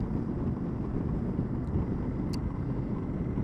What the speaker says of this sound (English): The wind's going to get a little bit noisier